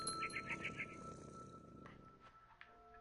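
A cat in the video game What Remains of Edith Finch gives a soft, close purring rumble with a quick series of high chirps at the start, which then fade into quieter ambience with a few light taps.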